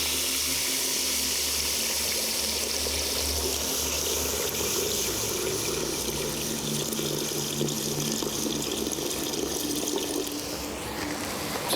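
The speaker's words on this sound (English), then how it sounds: "Then we're going to fill it with water up to the grid." Water running from a tap to fill a pot up to its grid for an earth-oven lamb roast, a steady continuous splashing rush close by, without speech.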